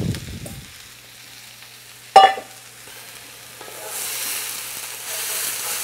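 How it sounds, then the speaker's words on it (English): Potatoes tipped into a hot pan for an Indian-style curry: a brief loud clatter and burst of sizzle near the start, then a steady frying hiss that swells louder toward the end. "We're going to add the potatoes in and start cooking them."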